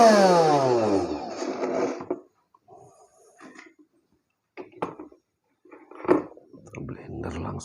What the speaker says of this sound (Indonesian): Blender langsung sekarang.